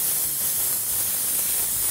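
A steady, even hiss of an airbrush spraying paint against a freehand shield runs continuously for a couple of seconds, close and moderately loud, with no voices.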